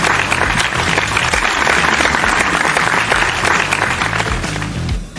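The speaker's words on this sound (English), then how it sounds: "Give yourselves a round of applause for being here." Loud, sustained applause from an audience of parents and students at a school career day debate, dense and continuous clapping close by, tapering briefly at the very end.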